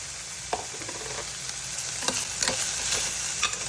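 Crushed ginger and garlic fry in hot oil with a steady, bright sizzle, broken by repeated scraping stirs and utensil taps against the pan, close and moderately loud throughout.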